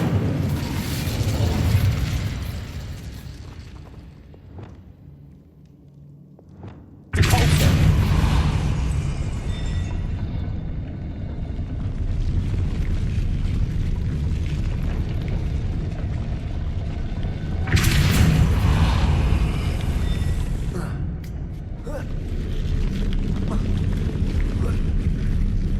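Incendio fire spell in Hogwarts Legacy erupting in sudden loud booming whooshes, two strong bursts separated by a dip to quieter ambience, with brief voiced casting around them.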